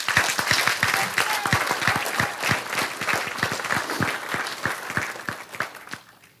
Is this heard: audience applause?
yes